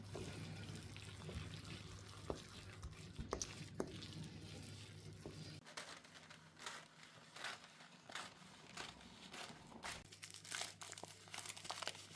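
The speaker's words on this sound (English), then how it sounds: "I'm lining this muffin tray with baking parchment before adding the pudding mixture." Baking parchment crinkles and rustles while a muffin tray is lined at home, a soft close-up crackling throughout, fainter in the middle and denser toward the end.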